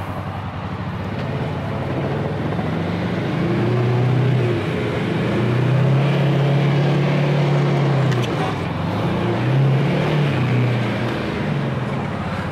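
A Can-Am Maverick 700 Trail Base 4x4 engine drones steadily on a roller slip test with four-wheel drive engaged, its low hum swelling and easing as revs rise and fall, near and continuous.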